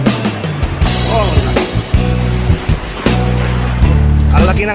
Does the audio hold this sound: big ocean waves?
yes